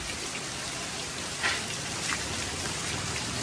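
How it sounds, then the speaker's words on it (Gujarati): Steady rain falls continuously, a dense close patter of drops on surfaces with a couple of slightly louder splashes, and no voices. "વરસાદની મોજ નાવાની"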